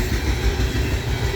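Freight train with EMD locomotives and distributed power units passing close in Ohio, a steady heavy rumble of rolling wagons throughout the short stretch.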